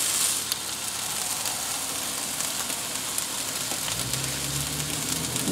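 Cauliflower kabobs sizzle steadily on a Copper Chef BBQ grill pan, giving a continuous close frying hiss with no talking and a low rumble near the end.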